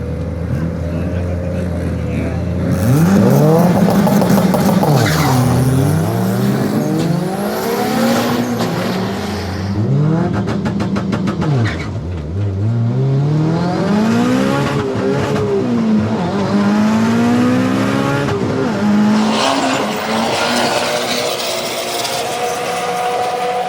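Turbo AWD Eagle Talon accelerating on a drag racing pass, loud engine revving up through repeated rising sweeps with shifts between them, heard close and continuous.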